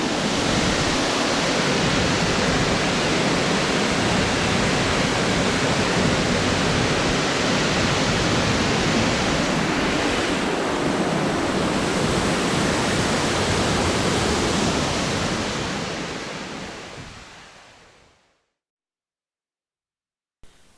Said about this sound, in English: Water in the Serra was flowing all over with heavy strength.